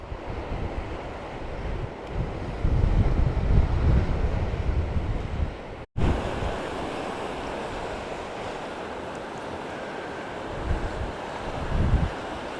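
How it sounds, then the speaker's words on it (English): Ocean waves crash against rocks below the cliffs at El Golfo, a steady, loud roar of surf mixed with strong wind buffeting the microphone, swelling and easing over several seconds. "the ocean crashing against the rocks"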